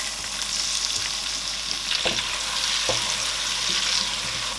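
Onions frying in hot red palm oil in a pot for a Nigerian vegetable soup, a steady loud sizzle throughout with a couple of soft clinks from stirring, no voices.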